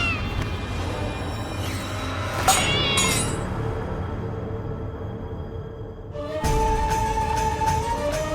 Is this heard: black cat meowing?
yes